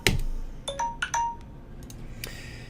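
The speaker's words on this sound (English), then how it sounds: "we may have heard the phone in the background there" A phone rings somewhere in the room in a sparse series of short electronic chime tones, some sharp clicks mixed in, moderately loud and otherwise alone.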